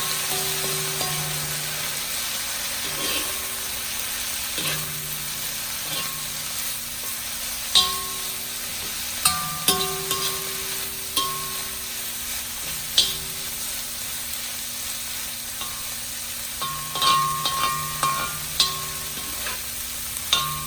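Onions and Vietnamese pork sausage with Chinese sausage fry steadily in a pan for fried rice, a continuous close sizzle broken by occasional scraping and stirring clicks, with no talking.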